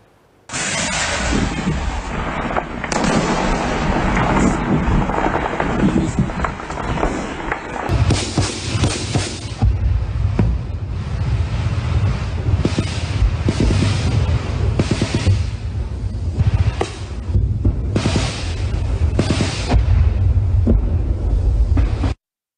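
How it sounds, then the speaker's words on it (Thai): Artillery and mortar fire at the Thai-Cambodian border, heard as continuous loud rumbling, deep thuds and repeated blasts over heavy wind-buffeted noise, sustained for over twenty seconds. "ระบุพิกัดยิงกระสุนปืนใหญ่ กระสุนปืนคอนะครับเสียงนี่ดังสนั่นหวั่นไหว"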